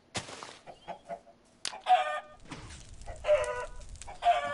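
Chickens cluck in the Minecraft video game, giving several short, sharp clucks in bursts close by. A low rumbling background comes in partway through.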